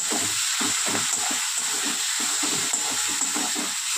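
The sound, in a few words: spices being sautéed in oil in a pan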